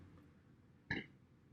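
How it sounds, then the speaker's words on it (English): A single short burp from a vlogger during an indoor talk about the music business, one abrupt throaty burst close to the mic in an otherwise quiet room. "I burp in all of my videos."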